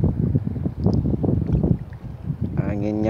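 Strong wind buffeting the microphone on a small fishing boat at sea, a heavy low roar with gusty rumbling; a voice speaks briefly near the end.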